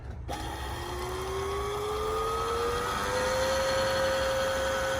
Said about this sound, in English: Activate the bobbin winder.